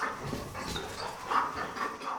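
Indoor dog panting and whimpering softly, a steady breathy rhythm with a few thin high whines rising through it, close and fairly quiet with no talk.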